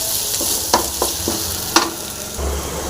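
Onions frying in a pan for a sweet pumpkin dish, with a soft steady sizzle and a few sharp scrapes and clicks as a spoon stirs, close by and with no talking.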